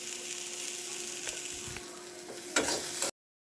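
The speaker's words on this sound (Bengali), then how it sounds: "আর এইটা বানাতে গেলে অবশ্যই তোমরা কিন্তু এই সর্ষের তেলে ভাজবে" Steady sizzle of food frying in mustard oil in a wok, close and continuous with a few light clicks of stirring, then cutting off abruptly.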